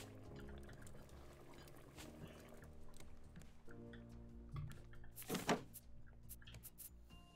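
A character drinks water from a glass in the survival game Raft, giving a brief liquid pouring and gulping burst over steady game ambience and background music.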